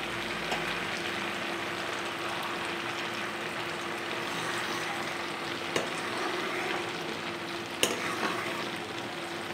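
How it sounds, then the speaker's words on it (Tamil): Butter bubbling steadily in a pan as it cooks down into ghee, a soft continuous sizzle and crackle at a low simmer, with a couple of sharper pops near the end. "இப்போ பார்த்தீங்கன்னா கொஞ்சம் கொஞ்சமாக அந்த சலசலப்பு கம்மியாகிட்டு வருது பாருங்கள்"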